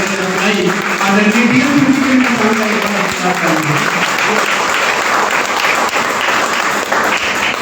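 Audience applause at a business seminar, loud sustained clapping from a large crowd lasting several seconds, with a voice briefly over it at the start.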